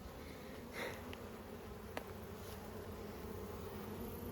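Honey bees buzz around an open hive during a late-summer inspection, a faint, continuous drone from many insects with a few brief closer passes.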